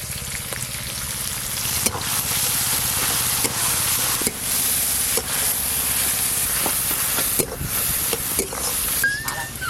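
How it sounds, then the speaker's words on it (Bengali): Chopped garden onion and garam masala frying in hot oil, a steady bright sizzle with occasional pops and stirring scrapes, close and continuous. "ওই একই তেলে গরম মশলা ফোড়ন দেব, পেঁয়াজ কুচি, এরই সাথে দিয়ে দেব"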